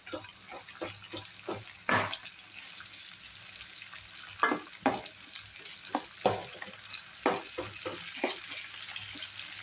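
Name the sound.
eggplant and vegetable chips frying in oil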